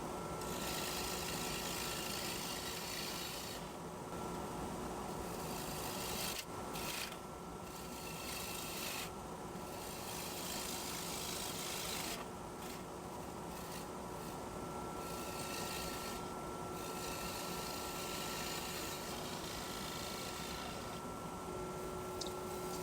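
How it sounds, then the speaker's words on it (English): Wood lathe spinning an ambrosia maple bowl, a bowl gouge scraping CA glue from the curve in a steady continuous hum with a constant tone and small bursts of scraping texture, close and even throughout. "Using the bowl gouge as a scraper to get the rest of that CA glue off and to smooth out"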